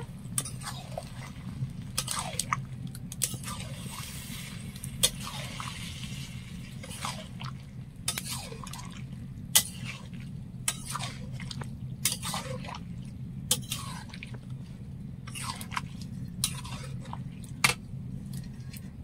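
Chicken tadka being mixed in a pot, soft wet squishing and stirring scrapes recurring at irregular intervals over a low steady hum, close and fairly quiet.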